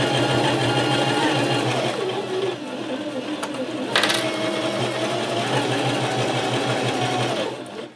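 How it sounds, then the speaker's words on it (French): A sewing machine runs steadily, stitching a long straight seam around a thick linen tote bag, a continuous close mechanical whir with a brief slowdown partway through. "une couture au point droit sur tout le tour du sac"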